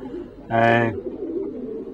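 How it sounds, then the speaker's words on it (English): Racing pigeons at the loft trap, one clear harmonic coo rising and falling briefly, close and fairly loud, set against low background murmur of talk. "the pigeons just come in, they can't get out"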